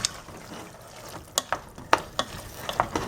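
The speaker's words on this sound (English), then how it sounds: "Stir that up." A spoon stirs a tomato and basil mixture in a regular saucepan, giving a few sharp clinks and scrapes spaced irregularly over a low background, close by and with no talking.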